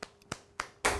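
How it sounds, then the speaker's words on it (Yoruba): A few sharp hand claps ring out in a studio, spaced irregularly, then a denser burst of clapping begins at the end, close and fairly loud. "Ó pàtẹ́wọ́ fún àlejò wa"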